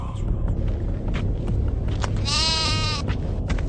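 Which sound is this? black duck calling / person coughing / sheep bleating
sheep bleating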